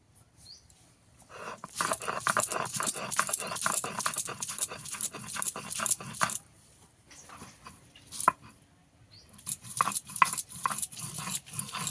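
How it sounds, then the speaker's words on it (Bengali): Ginger ground into a paste on a stone, a rapid rhythmic rubbing and scraping that runs in long close bursts with brief pauses and a short break midway. "প্রথমে এখানে আমি আদা বেটে নেবো"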